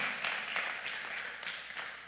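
Faint, distant applause at a church sermon as a steady patter of many hands clapping, continuous and soft throughout.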